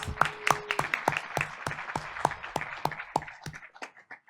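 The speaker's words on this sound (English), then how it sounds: "Let's give them a round of applause" An audience at a school board meeting claps in a steady burst of applause for elementary school students, many hands patting quickly at first, then thinning and fading out toward the end.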